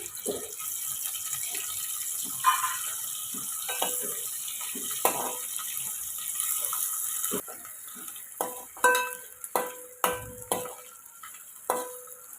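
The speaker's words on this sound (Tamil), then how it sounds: "இதில் எண்ணெயில் கொஞ்சம் ஃப்ரை பண்ணி எடுத்துக்கிறலாம்" Cleaned anchovies with heads cut off frying in oil in a kadai: a steady hiss of sizzling with intermittent scraping and stirring clatters, close and moderately loud, growing choppier toward the end.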